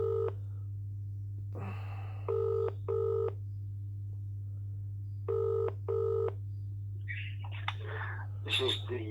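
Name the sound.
telephone call dialing and ringing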